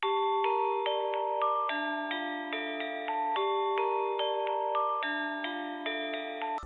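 A repeating sampled glockenspiel melody from the Mount Flux bank in Kontakt, bright, sustained metallic tones, evenly paced and clear, with notes ringing over one another and no talking.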